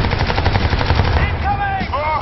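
Rapid automatic gunfire in the video game Crysis 2, a loud, close burst of evenly spaced shots that gives way to whooshing, wavering effects, with a shouted voice mixed in.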